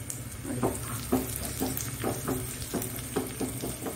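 Onions fry and brown in coconut oil for a Mangalore-style kingfish masala, a close, soft sizzle broken by regular scraping stirs about twice a second, with no voices.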